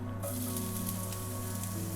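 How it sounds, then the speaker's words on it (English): Ginger and garlic sizzling in hot oil, a loud, steady crackling hiss close by with a low hum underneath, starting abruptly and continuing throughout. "sizzling away nicely."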